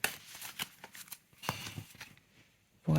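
Oracle cards from the Oracle de la Déesse Sauvage deck are shuffled by hand in short riffling bursts with pauses between them, close and fairly quiet, followed by a brief louder knock at the end.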